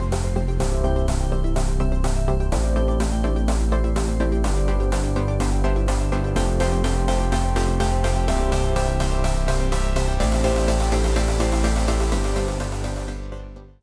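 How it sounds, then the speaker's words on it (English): A fat Reese bass synth programmed in Sylenth1 plays in a soft progressive house style, loud and dense under a steady rhythmic pulse of repeated chopped hits, then thins and fades at the very end. "how to make a super fat Reese bass"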